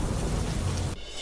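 Heavy monsoon rain pours down in Jamnagar amid river flooding, a dense, loud, steady roar that cuts off abruptly near the end into quieter background hiss.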